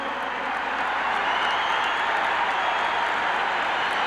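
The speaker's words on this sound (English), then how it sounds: "The big round of applause now for the new owner of the Minnesota Twins, Carl Pohlad" A large crowd applauds steadily for the new owner of the Minnesota Twins, a dense, even wash of clapping holding at full strength throughout.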